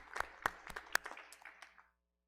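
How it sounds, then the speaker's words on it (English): Applause from an audience at a pharmacy school oath ceremony, given in honour of office staff. The clapping is faint and sparse, with a few distinct claps over a short stretch before it fades out. "a round of applause for them"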